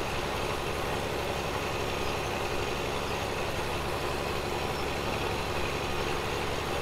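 A tractor engine in Farming Simulator 17 drones steadily while pulling a seeder at low speed, a constant low rumble with no breaks and no talk.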